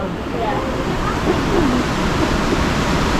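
Powerful, fast-rushing water beside the old fort wall in Lucerne, a loud, steady broadband roar close by, with faint voices in the background.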